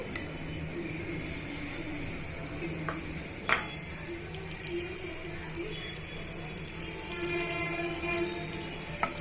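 Chana dal, mustard seeds and cumin frying in oil, a quiet steady sizzle with faint crackles and a couple of sharp pops, close and alone.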